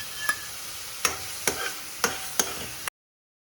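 Onion and ginger-chili paste frying in a pan, five sharp spoon strikes against the pan at roughly even intervals over a faint sizzle, close up, then an abrupt silence.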